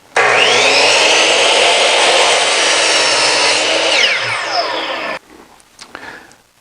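A miter saw cuts wood pieces to length, a loud, steady whine running for about five seconds before winding down, followed by a few faint knocks of the workpiece.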